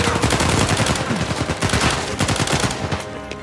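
Rapid automatic gunfire in the PS4 game Uncharted 4, loud sustained bursts of shots with dense crackling repetition that run the whole time with no break.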